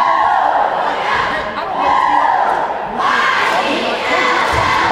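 A packed gym crowd at a boys' high school basketball game cheers loudly, with shouts and whoops swelling, dipping briefly, then surging again.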